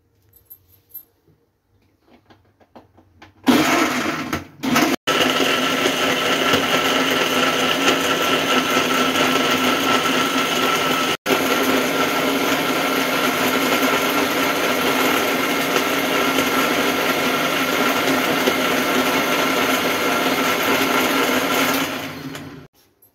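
A blender grinds banana, dates and about a glass of milk into a shake, running as a loud, steady whirr for roughly twenty seconds after a brief start, then cutting off.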